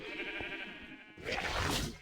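A sheep bleats once in Minecraft, a short nasal wavering cry, followed by a burst of louder noise at the end.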